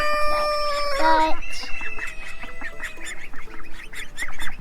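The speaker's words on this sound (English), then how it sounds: "today we moved our ducks into the pasture" Buff ducks out in a pasture give a run of nasal, honking quacks, loud and near at first and then scattered, broken calls that continue across the flock.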